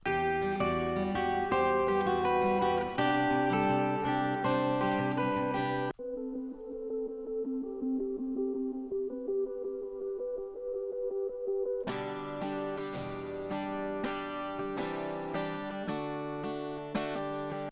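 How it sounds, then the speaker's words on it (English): Lead guitar line from the chorus of a song, sounding loud and sustained over a full band mix, thinning to a quieter, narrower passage in the middle before the dense texture returns. "And then there's this other like lead guitar that comes in during the chorus as well."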